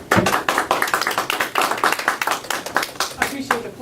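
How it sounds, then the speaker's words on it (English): A seminar audience claps for an arriving speaker, close and fairly loud, with distinct individual hand claps in an uneven rhythm and no talking over them. "I appreciate the applause"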